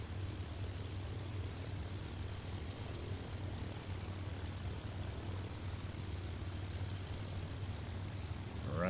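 A steady, even aircraft engine drone from a Microsoft Flight Simulator takeoff runs continuously at moderate level with no talk.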